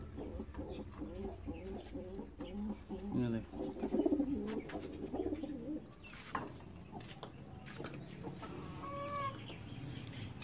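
Pigeons coo in soft, repeated low calls at moderate distance, with chickens clucking around them and faint voices in the background.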